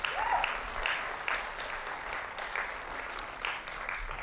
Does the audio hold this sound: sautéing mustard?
no